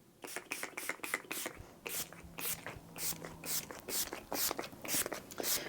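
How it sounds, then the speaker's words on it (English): A rapid series of short, close hissing sprays from a makeup setting spray misted onto a face, a dozen or so fine misty bursts in a quick, uneven rhythm. "I'm gonna go ahead and mist my face with the Urban Decay All Nighter Makeup Setting Spray."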